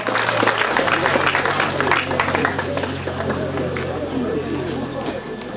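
Crowd applause at a Limanowa rally prize-giving for Mitsubishi Lancer driver Mateusz Banaś, loud and continuous clapping mixed with background chatter, easing slightly toward the end.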